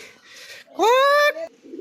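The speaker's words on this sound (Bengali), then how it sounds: "বন্ধুরা দেখতেই পাচ্ছ এক জায়গাতে আছে কতটি পায়রা" A pigeon gives a single short, clear coo, brief and fairly close, between faint background sounds.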